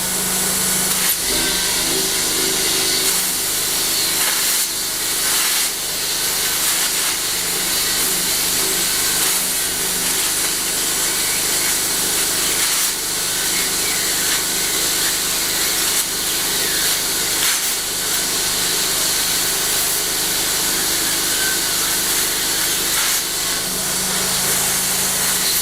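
An angle grinder cuts through metal during a welded barbecue smoker build, a loud, continuous abrasive whine and hiss that runs steadily for the whole stretch with slight dips in pitch as the disc bites.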